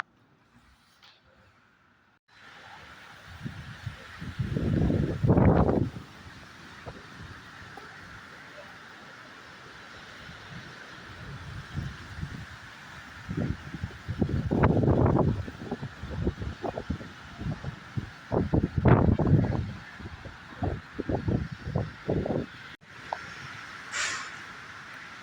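Strong wind gusts roar in waves outdoors during light drizzle, with leaves rustling and trees nearby; the gusts rise and fall loudly over about twenty seconds, with no talking.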